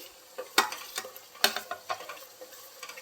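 Chicken pieces with slit green chillies frying in a pan for a chicken gravy curry, a soft sizzle broken by scattered crackles and spatula scrapes, close and fairly quiet.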